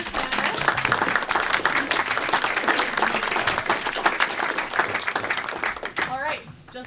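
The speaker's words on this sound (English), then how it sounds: "let's give a round of applause for our candidates." An audience at a Hardwick select board candidates forum gives a sustained round of applause, dense steady clapping from a roomful of people that tapers off near the end.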